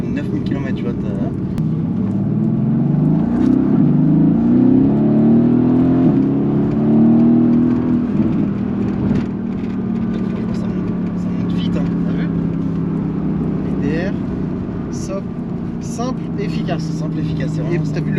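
A Mercedes-AMG V8 engine, heard close, rumbles and sweeps up and down in pitch through a rev, then settles to a steadier drone, with people talking over it.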